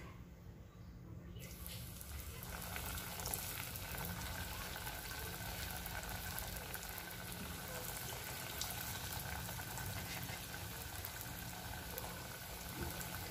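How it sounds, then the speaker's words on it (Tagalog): Tuna nuggets made from canned Century Tuna fry in very hot cooking oil, giving a steady, dense bubbling sizzle that runs close and unbroken the whole time, with no voices over it. "Dapat mainit na mainit yung inyong mantika bago nyo ilagay yung inyong tuna nuggets para hindi siya didikit."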